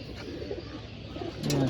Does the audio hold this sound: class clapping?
no